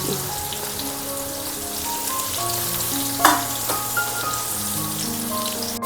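Garlic and ginger frying in ghee in a pan for ghee rice, a steady dense close sizzle with occasional crackles and a stir, continuous throughout with no voices.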